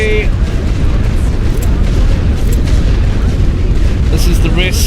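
Rumbling artillery shell blasts in a World War I Western Front battle game, dense low booming running continuously with loud overlapping impacts and no clear gaps.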